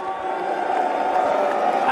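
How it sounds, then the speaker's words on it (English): A crowd at a Dota 2 tournament, The International 2025, cheers and whoops together in a dense, sustained roar from a large audience. "Cheer if you want him."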